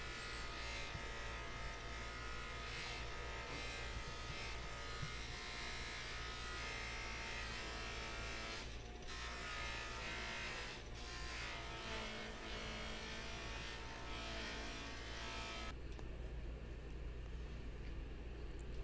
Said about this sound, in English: I am going to polish up the bolsters and the brass pins just on a buffing wheel with a little bit of buffing compound.